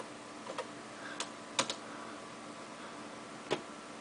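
Computer keyboard typing a search query, a handful of sparse, separate key clicks at irregular intervals, close and fairly quiet over a faint room hum.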